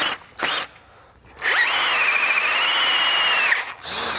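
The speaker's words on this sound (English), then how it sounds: "once we're done drilling out these holes, we can go ahead and put that cross member in" A power drill bores holes through a golf cart frame, with short bursts of whining motor followed by a sustained two-second drilling run, close and clear with no talk.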